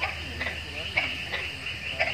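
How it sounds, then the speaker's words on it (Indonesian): Frogs croak in a quick repeating rhythm beside a water spinach field at dusk in Serui, Papua, several close calls pulsing over a low outdoor hum. "Terdengar suara bunyi kodok ngorek."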